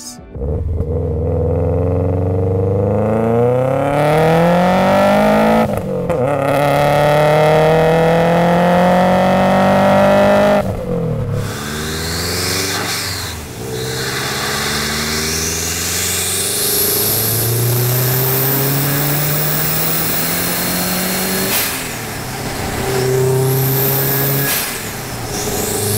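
A car engine revs and accelerates hard through repeated rising sweeps, with short gaps at gear changes, loud and close, and no one speaking.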